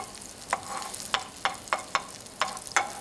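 A hamburger patty for a blue cheese sauce hamburg steak fries in a frying pan over medium heat while being pressed into a round shape. About seven sharp, close scraping taps rise over a soft, steady sizzle.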